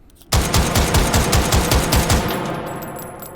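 An AG42B Swedish World War II battle rifle firing in the VR game H3VR: a sudden loud burst of rapid, evenly spaced shots starting abruptly, then trailing off into a ringing decay.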